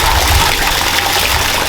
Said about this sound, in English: this is a little waterfall.